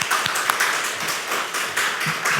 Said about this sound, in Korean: 우리 하나님 앞에 우리 감사의 박수 한번 올리겠습니다